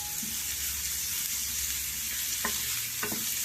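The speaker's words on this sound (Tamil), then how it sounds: "வெங்காயத்தால் அதோட சின்ன ஆனியன் கொடை மிளகாய் எல்லாம் போட்டு அதில் அப்படியே வதக்கிடலாம்" Onions, small shallots and capsicum sautéing in a hot pan, a dense continuous sizzle up close, with a couple of brief spatula scrapes and clinks as the vegetables are stirred.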